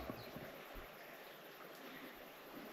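Water from a stream rushing through a tunnel beneath a road, a steady broadband wash with a faint hollow echo, continuous and moderately quiet throughout.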